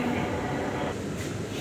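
Steady rumbling roar of a Delhi Metro train running between stations, a dense continuous rush from inside the carriage with a slight hiss rising near the end.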